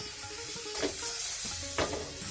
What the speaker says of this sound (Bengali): আমি সামান্য তেলে এই বেগুনগুলোকে সুন্দর করে ভেজে নেব